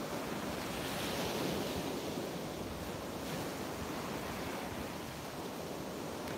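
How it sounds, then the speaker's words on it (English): Ocean waves wash onto a beach at sunrise in a steady, continuous surf roar with some wind noise, no voices present. "Soak in these beautiful colors and the sound of the waves for one more minute."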